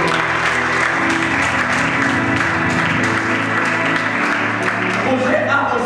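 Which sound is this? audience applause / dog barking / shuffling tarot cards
audience applause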